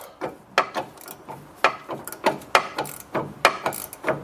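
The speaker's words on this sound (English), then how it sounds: "And we're slowly removing that nut." A ratchet works off a self-locking control arm nut on a Dodge front suspension, giving a run of irregular sharp clicking bursts, close and fairly loud, repeating roughly every half second with no talk.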